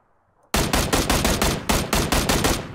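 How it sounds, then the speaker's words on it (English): Rapid bursts of gunfire from PlayerUnknown's Battlegrounds, a sniper attack in the game, cracking loudly in a steady string of about a dozen close, evenly spaced shots with no talk over them. "Watch out, we're being sniped."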